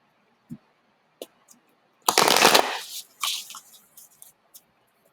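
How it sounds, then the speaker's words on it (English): Moonology oracle cards being shuffled by hand, a few light taps and flicks followed by a dense riffling burst, then scattered softer card snaps trailing off, close and clear with no talking. "One last shuffle."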